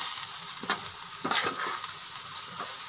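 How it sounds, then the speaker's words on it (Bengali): Rice with moong and masoor dal, whole garam masala and dried red chillies sizzling in oil while being stirred in a pan, a continuous close sizzle broken by several scraping stirs. "এদিকে চাল আর ডালটাকে তেলের মধ্যে দিয়েছি, এটাকে ভালো করে নাড়াচাড়া করে নেব।"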